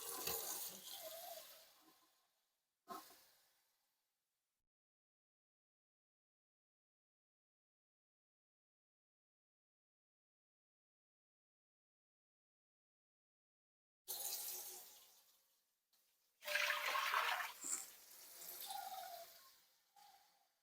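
Cold tap water runs into a canning pot in two short bursts, then falls silent for a long stretch before flowing again, a hissing splashing stream heard close up.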